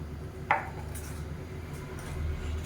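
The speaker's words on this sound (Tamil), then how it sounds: "இப்போ நல்லா கலந்து விட்டுக்கலாம்" A spoon stirs chutney in a bowl in a home kitchen, giving soft scraping with one sharp clink of utensil against the bowl early on, steady and close with no talking.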